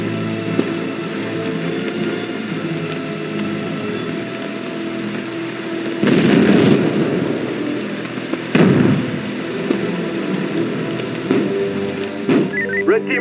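Flashbang breaches in the SWAT 3 tactical shooter: two loud bursts land near 6 and 8.6 seconds over a steady game ambience, and a smaller pop follows near 12 seconds.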